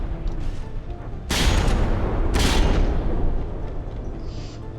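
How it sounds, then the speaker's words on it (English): Battleship New York unleashing a full broadside in a naval combat game: two heavy, booming gun salvos roughly a second apart, loud and close, each leaving a long rumbling tail. "only now the full firepower from the New York is being used"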